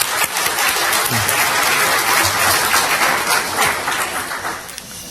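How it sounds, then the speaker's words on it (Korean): A church congregation applauds its choir, a loud full round of clapping from many hands that swells and holds steady, then eases off near the end, with no speech over it. "우리 시온 찬양대 더 열심히 하시라고 우리 박수 한번 쳤으면 좋겠습니다"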